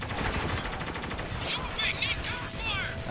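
Gunfire in the video game Spec Ops: The Line, a continuous rattle of automatic shots running steadily throughout, with voices talking over it.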